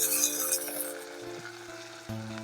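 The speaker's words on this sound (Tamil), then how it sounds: "நல்லா கிளறி விட்டா" Chili powder frying and being stirred in a pan for a Jaffna-style dry fish curry, a steady close sizzle with soft scraping strokes and a faint clink partway through, with background music tones running underneath.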